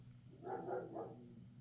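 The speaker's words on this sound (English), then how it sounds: "My dogs are letting me know somebody's out there" Dogs bark indoors, heard as a couple of faint, muffled woofs at a distance, with no talking.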